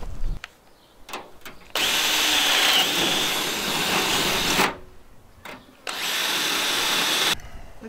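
A power riveting tool sets rivets while propane system parts are fitted in a school bus conversion, with two long loud whirring bursts separated by short pauses and small clicks.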